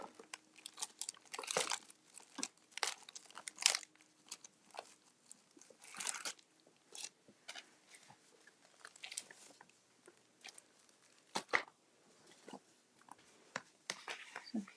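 A paper envelope is handled at a craft table with intermittent close, crisp crinkles and rustles that start and stop irregularly against a quiet background.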